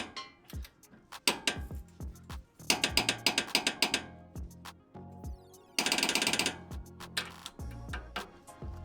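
A torque wrench ratchets on a tie rod bolt of a first-generation Toyota Tundra, giving close, crisp repeated clicking in quick bursts with short pauses between strokes and no talk.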